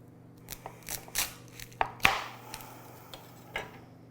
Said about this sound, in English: a small head of garlic, and we're cutting it in half this way, not this way